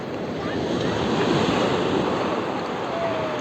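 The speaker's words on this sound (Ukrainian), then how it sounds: "Під берегом там просто хвиля і збиває." Autumn sea waves break and wash along the shore in a loud, continuous roar, with wind buffeting the microphone.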